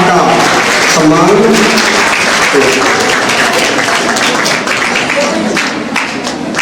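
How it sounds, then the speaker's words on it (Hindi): Applause at a school farewell party, a dense crowd clapping continuously and loudly for several seconds, easing slightly toward the end, while a voice talks over it on a loudspeaker. "सभी ताली बजाते हुए"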